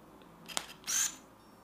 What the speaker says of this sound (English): focus is loud, but the actual operation of the camera from the leaf shutter to the winding is rather silent